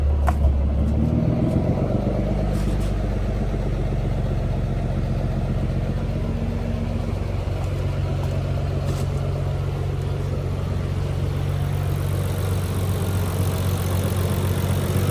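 A Nissan 300ZX engine idles steadily at around 800 to 900 rpm, a loud, even low rumble with a few brief clicks early on and no talking.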